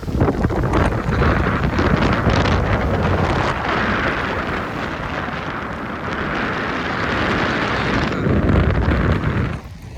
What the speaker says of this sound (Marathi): एवढा वारा आहे.